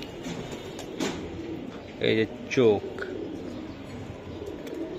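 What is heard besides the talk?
black-necked pigeon cooing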